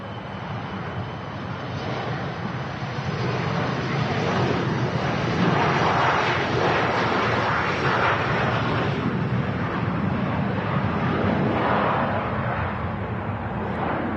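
An Embraer 145 jet of Shortbread Airlines takes off from runway 05 left at Manchester Airport, a steady distant roar swelling gradually amid wind noise.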